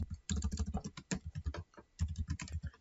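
Rapid typing on a computer keyboard, close and crisp: a quick run of key clicks, a short pause around the two-second mark, then more clatter.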